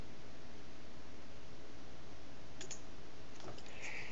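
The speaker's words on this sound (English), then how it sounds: "Click on routes again." A computer mouse clicks a few times in quick succession, two crisp clicks followed by a short cluster, close and quiet over a steady hiss.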